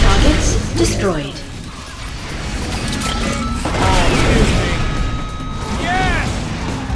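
Targets smashing in the Cars 2 video game during an Imperial Tour attack mode, with several crashing impacts and bursts spread through the clip over game music and engine noise, while a voice talks.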